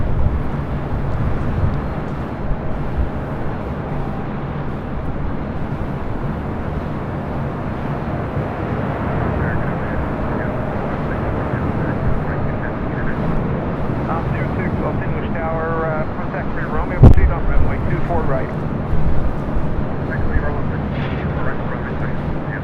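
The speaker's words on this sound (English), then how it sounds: "KLM now rolling down at 25 right" A KLM airliner bound for Amsterdam makes its takeoff roll on runway 25 right at LAX, giving a steady, fairly distant broadband roar that holds throughout, with occasional voices over it.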